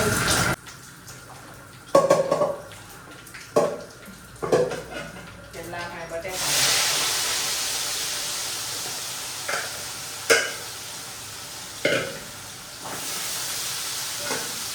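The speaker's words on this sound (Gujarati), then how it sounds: "તો ચાલો હવે આપણે શાકનો વઘાર કરી લઈએ." Spices tempering in hot oil for a cauliflower and potato curry: after a few pot clanks and knocks, a loud, steady sizzling hiss starts midway and continues, with occasional clatters of utensils.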